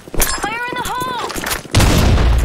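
Grenade blast in a multiplayer video game: a sharp explosion bursts in near the end and rings out loudly, preceded by a shouted voice and other brief gunfire-like cracks.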